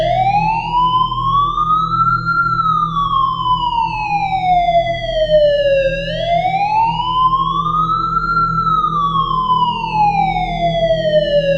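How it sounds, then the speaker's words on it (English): Police sirens wail in long rising and falling sweeps on a busy street, steady and prominent over a low rumble of traffic, with no talking. "only to be greeted by the haunting wail of distant sirens"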